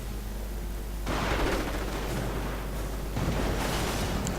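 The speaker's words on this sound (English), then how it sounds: "Flak 88 fire killing further infantrymen" Flak 88 anti-aircraft gunfire in a WWII video game battle, with a loud, dense spell of booming shots and crackling blasts that starts after about a second of quieter rumble and runs without pause.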